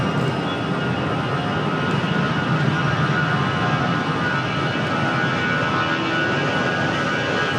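A UPS jet departing runway 5 at Raleigh-Durham airport, a loud, steady engine roar that stays level throughout without any talking.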